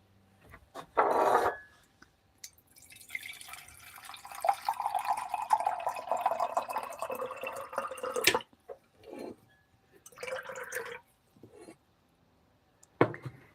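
Water poured into a pot for making coffee, a splashing stream that fills for a few seconds, followed by short drips and clinks nearby.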